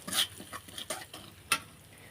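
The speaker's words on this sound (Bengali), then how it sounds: "মশলাগুলো একটু ভালোভাবে ভেজে নিলাম।" Ground spices (turmeric, chili powder and coriander powder) frying in a pan for a village-style potato and flour snack, with a few soft stirring scrapes and a quiet sizzle, one sharper clink near the end.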